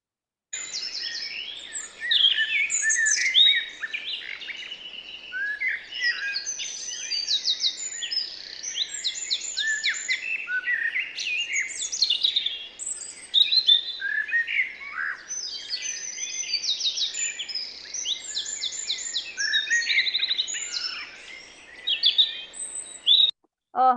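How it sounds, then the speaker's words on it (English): Many birds sing together in a spring dawn chorus, a dense, continuous tangle of bright chirps, trills and whistles overlapping for the whole stretch, fairly close and with no voices. "count how many different types of birds you can hear"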